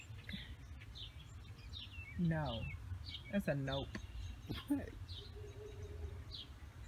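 Small birds chirp nearby in short, high calls scattered through a low background rumble, while a person speaks a few words in between.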